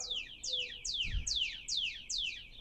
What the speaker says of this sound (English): I can see a cardinal right now.